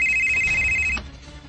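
A cellphone ringtone plays a steady repeating electronic tone for about a second, loud and close, then cuts off abruptly, leaving faint room noise.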